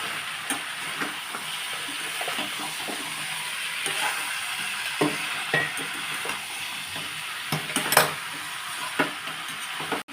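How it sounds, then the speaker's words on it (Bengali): Watermelon rind curry vegetables sauté with ground spices and a spoon of sugar in a hot pan, a continuous sizzle broken by repeated scraping and clinking stirs at close range. "আমি এবার কষছি সবজিটা।"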